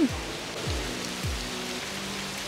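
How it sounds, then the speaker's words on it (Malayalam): Artificial rain pours steadily in an indoor rain room in Dubai, a dense, even hiss of falling water heard up close, with a few low swooping tones underneath. "ഞങ്ങളിവിടെ മഴ നനഞ്ഞുകൊണ്ടിരിക്കുകയാണ്."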